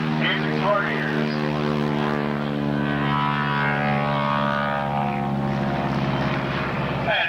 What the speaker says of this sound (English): The rumble of the big Pratt & Whitney R1340 600 horsepower radial engines in your ears.